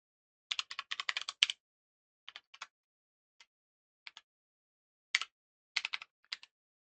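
Typing on a computer keyboard while writing SystemVerilog code, heard as quiet, close keystrokes in short clustered bursts separated by pauses, with no voices.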